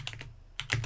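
Quiet keys tap on a computer keyboard, a few close clicks, then a short gap and a couple more strokes, with no talking.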